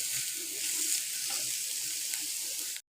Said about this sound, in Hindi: इसको थोड़ा सा फ्राई करेंगे जब तक इसका पानी खुश्क हो जाए